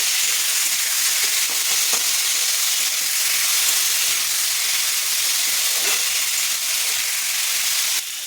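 Steady, loud sizzling of diced potatoes frying in a little oil, with a constant hiss and occasional faint scrapes of stirring.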